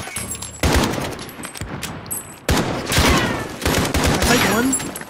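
Gunfire in Call of Duty Warzone, with loud irregular bursts and sharp individual shots separated by brief gaps, heavy and close amid busy in-game battle noise.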